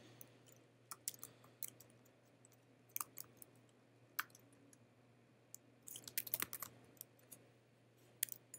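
Fingers typing an email address on a computer keyboard, quiet irregular key clicks in short bursts with a denser flurry near the end, over a low steady hum.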